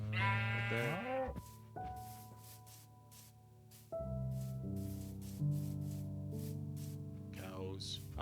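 Sheep in the Minecraft video game bleat several times, a quavering cry followed by longer held bleats, close and fairly loud over a quiet background.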